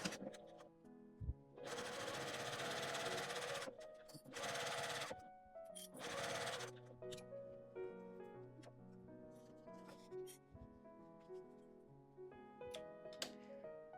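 Sewing machine stitches a clear pocket pouch of thin interfaced fabric in several close, steady whirring bursts separated by pauses, while soft music plays underneath.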